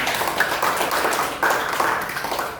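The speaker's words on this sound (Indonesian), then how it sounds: "Beri tepuk tangan dong untuk Kak Agnes" Clapping for a presenter at a session held in an orphanage, a loose patter of hands from a small group of children, fairly close and uneven.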